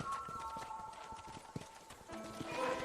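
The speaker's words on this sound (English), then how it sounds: "And here's the corral. This one's for the horses." Horse hooves clip-clopping at a ranch corral in the video game Red Dead Redemption, a quiet irregular walking rhythm under game music and ambient noise.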